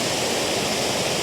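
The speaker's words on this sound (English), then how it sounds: "a fast-moving cascade of water" A fast-moving cascade of water rushes in a dense, steady broadband roar, close and continuous with no pauses.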